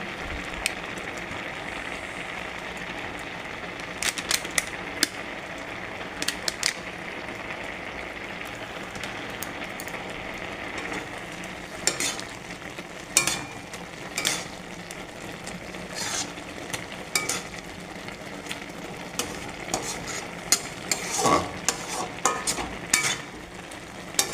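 Carrot halwa with milk cooking down in a pan, a soft steady bubbling sizzle with sharp ticks and scrapes from an intermittent stirring spoon, close and alone.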